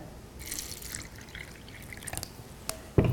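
Tap water poured from a container into a glass during a Kangen water comparison, heard as a soft, uneven trickle with drips, then a sharper splash at the end.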